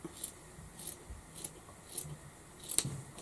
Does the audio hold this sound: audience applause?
no